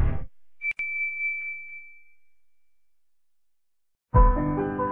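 A single bright notification ding rings out cleanly and fades slowly into near silence, framed by brief bursts of other sound at the start and end.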